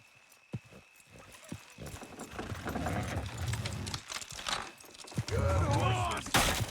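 Horses' hoofbeats in Red Dead Redemption 2 clop along steadily beneath a busy mix of voices and rumbling movement, growing louder and denser toward the end.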